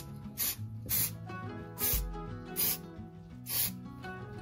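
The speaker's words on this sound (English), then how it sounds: "I'm gonna spray it well and give it a few coatings." A spray paint can hisses in five short bursts at an even pace, close by, over quiet background music, coating a rebuilt boat raw water pump.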